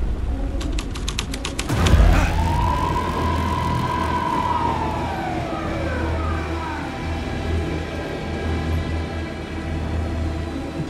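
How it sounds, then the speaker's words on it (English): Police car siren in the video game Alan Wake 2, a single rising and falling wail that sweeps up after a sharp onset and slowly fades, fairly loud over steady ambient game noise, with no talking. "Police car, not important to the story."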